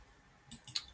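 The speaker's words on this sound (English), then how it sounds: "So just gonna click on this one" A computer mouse clicking a few times in quick succession, faint and close, set against quiet room tone.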